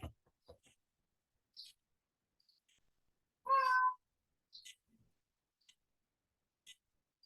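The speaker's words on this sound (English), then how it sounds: "And this very unhappy cat." An unhappy cat gives a single loud, drawn-out meow partway through, alone in a quiet indoor room, with a few faint clicks and soft ticking sounds scattered around it.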